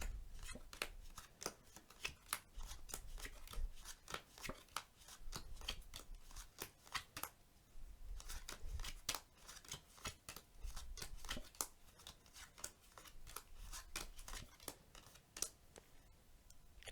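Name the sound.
playing cards dealt one face up, one face down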